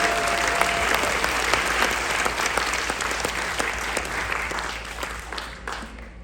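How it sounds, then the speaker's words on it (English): A large gathering at a company event on a Greek cruise applauds, a loud continuous clapping that stays steady, then thins slightly toward the end. "please give yourselves a round of applause"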